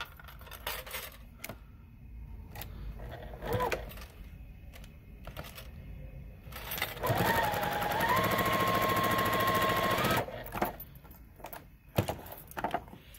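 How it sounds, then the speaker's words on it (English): A sewing machine stitching quilt block pieces for a Galaxy Star block, running in a steady sustained burst after scattered clicks and handling of fabric, with a rising whine as it gets up to speed and then stops. "So we're going to sew these together."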